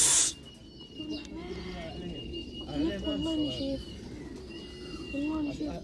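Racing pigeons return to the loft after a 203 km race, soft cooing and fluttery calls close by, mixed with a voice talking.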